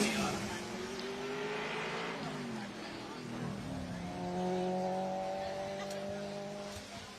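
A 2002 Mazda Miata launches at a hillclimb race, with engine revs rising and falling in a middle-distance roar, then a climbing tone that fades. A commentator talks over it the whole time.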